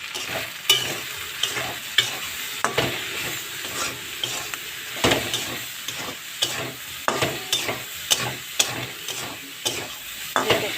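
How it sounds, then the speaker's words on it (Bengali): Bitter gourd and potato pieces frying in oil with torn green chili, turmeric and salt, a continuous sizzle broken by frequent rhythmic scrapes and clacks of a spatula stirring in the pan, close by. "এবার এটাকে আমি ভালো করে ভেজে নেব"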